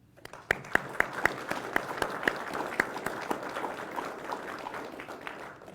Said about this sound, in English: Please give them a round of applause in showing of our appreciation and support for their leadership.